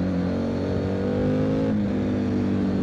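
Triumph Tiger 900 GT Pro 2024 motorcycle's 900 cc engine pulls hard from low revs, a loud steady drone with rising and falling harmonics and a slight dip partway through, close to the rider.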